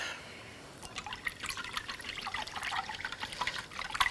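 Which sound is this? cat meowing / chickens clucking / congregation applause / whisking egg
whisking egg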